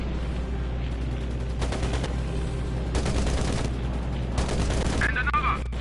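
Rapid gunfire bursts from a Pearl Harbor attack video game, set in 1941, with repeated bursts of shooting over a constant low engine-like drone.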